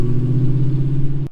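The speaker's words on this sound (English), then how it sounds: "What this allows me to do is have a brutally loud Mercedes when I want it" A Mercedes E55 AMG with a loud, open exhaust rumbles steadily at close range for just over a second, a deep idle drone that cuts off abruptly at the end.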